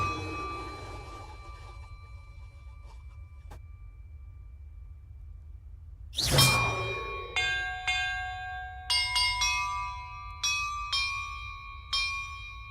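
Castle bells are struck one at a time in Hogwarts Legacy, each clear metallic clang ringing out and decaying before the next, forming a slow sequence of different pitches with no talk.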